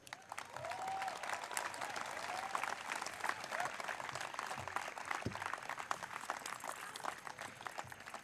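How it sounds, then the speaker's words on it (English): Sustained, dense applause fills a large hall at the 2012 MIT Institute of Design, Pune convocation as award winners are honoured. Steady crowd clapping continues throughout, with faint voices underneath. "Let's have a huge round of applause for all the winners."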